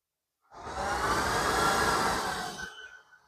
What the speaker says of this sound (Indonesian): nyalakan vakum